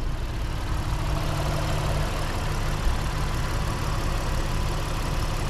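A 2020 Honda Ridgeline RTL-E with all-wheel drive idles steadily, a smooth low engine hum and rumble that holds constant and close throughout with no revving.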